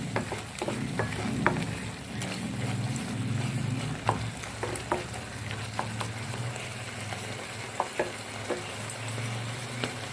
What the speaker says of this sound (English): I will add some tomato sauce, tomato ketchup sauce. Mix together